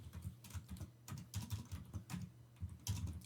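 Rapid clicking keystrokes on a computer keyboard while Verilog code for an SR latch is written in Vivado, the taps arriving in quick irregular bursts, close and fairly quiet.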